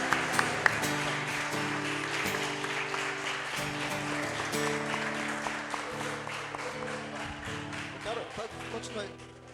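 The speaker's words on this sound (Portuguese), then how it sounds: "Aplauda Jesus" A church congregation claps along while sustained keyboard chords play, sharp hand claps scattered over the music and voices throughout.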